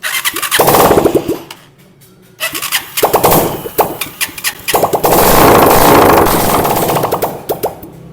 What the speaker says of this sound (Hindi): अब बाइक को हम स्टार्ट करके ऑयल पम्प चेक करेंगे